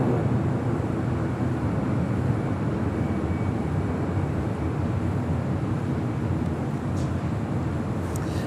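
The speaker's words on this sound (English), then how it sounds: "That is the Dreamliner heading to London, heading to 25 right here on the south side." A Boeing Dreamliner jet at Los Angeles airport, heading for London on the south-side runway, gives off a steady, loud broadband engine roar that holds constant throughout without pause.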